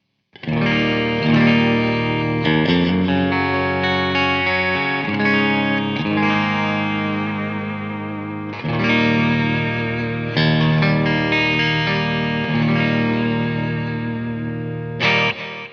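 Electric guitar, a 2020 Charvel Pro-Mod San Dimas on the back coil of its bridge humbucker, with a distorted, effects-laden tone plays sustained chords, heavy and close, with a few chord changes and washy echo.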